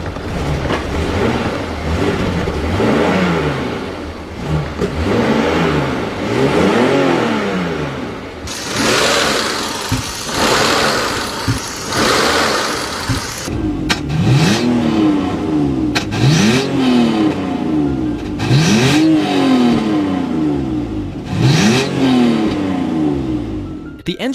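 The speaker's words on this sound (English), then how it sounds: "The engine came to life and began running smoothly." A 1998 BMW 728i, abandoned for 12 years, running after a start, its engine droning loudly and steadily with repeated rising and falling revs, a brief harsh noisy stretch midway, no talking.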